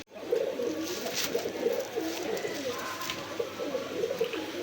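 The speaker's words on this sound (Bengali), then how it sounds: "বন্ধুরা এখানে একজোড়া মাক্সি রেসার কবুতর আছে" A pair of Maxi Racer pigeons coos close by in repeated soft, throaty rolling calls that continue steadily throughout.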